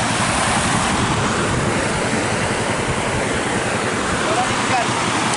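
Broad, steady rushing of a large river in a remote village, loud and continuous with no breaks, close by and alone, with a constant wash that blends with wind noise.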